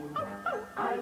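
Small dog yips and short barks recorded on a 1950s pop song, three brief bright bursts spaced across a second over a soft musical backing.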